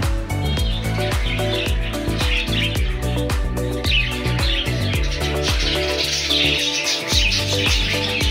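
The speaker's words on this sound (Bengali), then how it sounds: "এই পাখিটি এরকম ছোট ছোট বাচ্চাগুলিকে নিয়ে বসে আছে" Budgerigar chicks and a parent bird kept as pets make high, thin chirps that run without a break. Loud rhythmic music with a steady beat nearly drowns them out.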